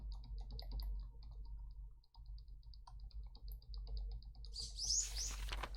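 Small bird chirps in the video game Missing, a brief bright burst of tweets near the end over quiet ticking sounds and a low hum.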